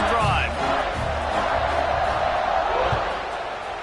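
Large football stadium crowd roaring steadily before a kickoff in a UCLA game, a dense sustained wall of cheering and yelling with a few sharper whoops near the start.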